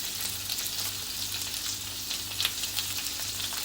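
Stuffed okra fries steadily in a pan over a medium gas flame, a close, continuous crackling sizzle with no talking.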